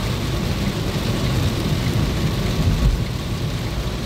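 Heavy rain pours steadily onto an RCC concrete road on the Indore–Ahmedabad highway between Godhra and Dahod, a loud, dense, continuous wash with a low rumble underneath and no voices.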